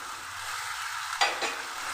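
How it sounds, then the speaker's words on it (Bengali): Fried potatoes go into a hot, sizzling pan of tomato and spices for a fish and cauliflower curry. A steady close frying hiss is broken near the middle by a sharp splash and louder crackle as they land, with no talking. "এবার আমি দিয়ে দিচ্ছি আলু ভাজা"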